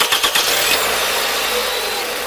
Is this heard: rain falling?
no